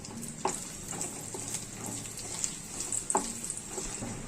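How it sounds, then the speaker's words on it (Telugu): Dry fruits and dates fry in ghee, a soft, steady sizzle with a couple of sharp stirring scrapes nearby. "ఈ డ్రై ఫ్రూట్స్ వేగిన తర్వాత దీనిలో మనం ముందుగా తీసుకున్న ఈ ఖర్జూర కూడా వేసుకొని వేయించుకుందాము"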